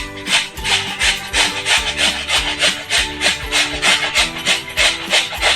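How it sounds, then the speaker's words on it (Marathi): A seeded cucumber is grated by hand in a home kitchen, with loud, steady back-and-forth rasping strokes in an even rhythm and no talk. "काकडी किसायला एकदम सोपी असते."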